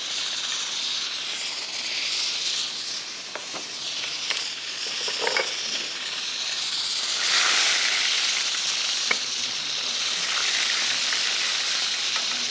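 Garlic and cumin seeds sizzle steadily in hot oil in a pan, a close, continuous frying hiss broken by a few faint stirring clicks, with no talking.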